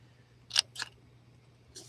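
Scissors cutting the top of a cardboard box, two quick close snips followed by a fainter third cut over a low steady hum.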